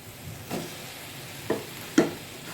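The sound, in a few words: bitter gourd and potatoes frying in pan with fish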